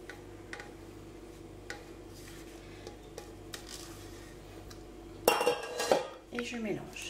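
A whisk or spoon clinks against a bowl while whipped cream is folded into custard for a fraisier, soft scattered taps then a louder run of scraping and knocking strokes.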